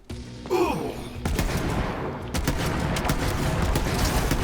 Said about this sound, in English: So I'm going to take down his shield with a shotgun